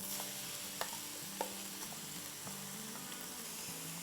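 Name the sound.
mixing sauce into frying minced meat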